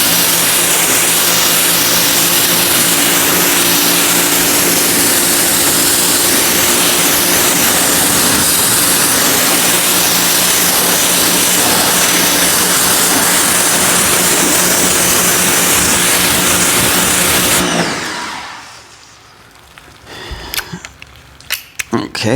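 A loud, steady hiss of spraying water rinses a car during a wash, roaring without pause before cutting off abruptly, followed by a few scattered knocks and drips.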